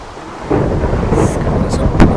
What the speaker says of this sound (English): I'm doing this in thunder, it's pretty scary